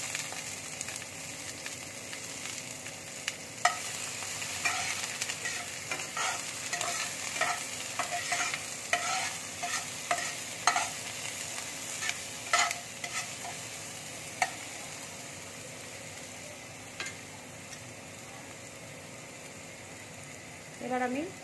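Onion frying in hot oil in a wok, steady close sizzle with scattered sharp clicks and scrapes of stirring throughout.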